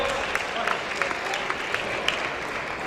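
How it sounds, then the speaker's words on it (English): A crowd at a fight event applauds the promoter, a steady spread of many clapping hands with a few sharper, closer claps standing out over the general wash. "So great applause for George Francis, our great promoter and mastermind here at FightersRep."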